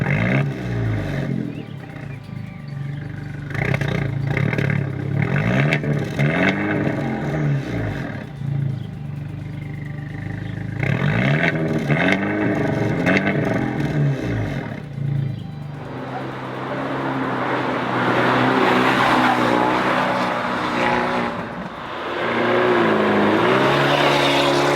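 An Abarth 124 Spider with a 1.4-liter MultiAir turbo engine revs repeatedly, its exhaust rising and falling in several loud, close throttle blips before a longer, rougher sustained rev near the end.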